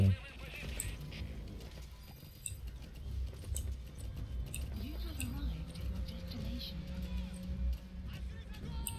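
In Metal Gear Solid V, a horse's hooves clip-clop at a steady trot, fairly close, layered with game ambience and a faint voice now and then.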